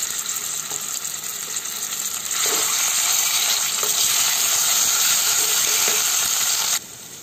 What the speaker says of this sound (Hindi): साग डालने के बाद इसे सिर्फ 1 से 2 मिनट तक लगातार चला के पकाएंगे